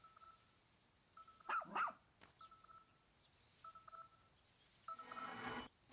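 A rescue dog in the video game Pikmin 4 lets out a couple of quick synthetic barks among soft beeping game tones, followed by a brighter burst of sound near the end, with no talking.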